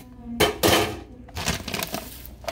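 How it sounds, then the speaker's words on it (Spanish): Cutco scissors cutting open a package in a home kitchen: a few loud, crunchy snips and rustling bursts close to the mic, with no talking. "Cutco knife."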